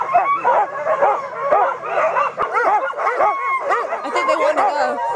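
A pack of sled dogs in the Arctic barks, yips and whines excitedly and continuously, many overlapping voices close by.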